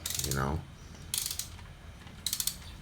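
A torque wrench ratchets in short bursts while tightening bolts on a 1996 Honda VTi PH16 engine, with three separate clusters of quick metallic clicks, close and moderately loud, with a brief muffled thump at the start.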